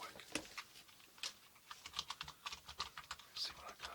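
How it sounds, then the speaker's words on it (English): Typing on a computer keyboard, with quiet, close, uneven bursts of key clicks and taps and no talking. "you can talk to me while I type up a couple letters"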